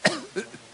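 Audience members cough at a religious talk: one sharp near cough followed by a second, softer cough a third of a second later, then a faint third.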